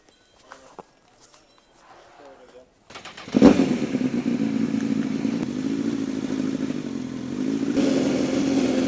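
A motorcycle engine swells in suddenly and holds a steady, loud roar as it passes close by, following a quieter stretch with soft talking and light clatter.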